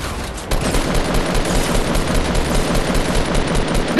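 Covering gunfire in Fortnite, a loud, rapid stream of automatic shots starting abruptly and continuing steadily for several seconds, close and dominant with no talk.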